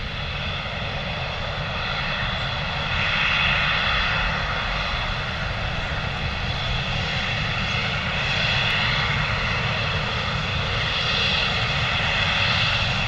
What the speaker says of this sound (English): Got a Embraer E190 taxiing towards us as well right now.